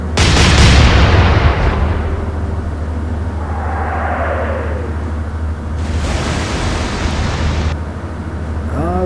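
Naval guns fire in the Atlantic Fleet game: a loud, heavy boom opens the scene and rumbles low, and a burst of broadband noise follows later. A steady low hum sits underneath.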